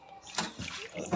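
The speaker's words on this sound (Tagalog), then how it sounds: "Ito muna lagyan ng tubig para lumambot." Water is poured and splashes over a pork leg for crispy pata, giving a short, close, uneven splatter with a sloshing burst at the end.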